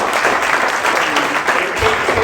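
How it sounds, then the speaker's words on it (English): Audience applause at an outdoor groundbreaking ceremony for an affordable housing development, a steady clatter of many hands with some speech mixed in. "Big round of applause."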